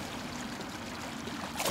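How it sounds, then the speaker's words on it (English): Steady flowing water in a video game, a continuous close trickling stream with no talk over it, swelling briefly brighter and louder near the end. "I do kind of like this water."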